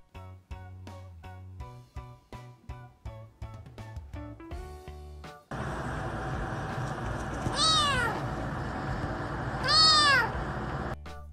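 A cat meows twice, loud and drawn out, with rising and falling cries over a steady background hum, following a stretch of plucked music.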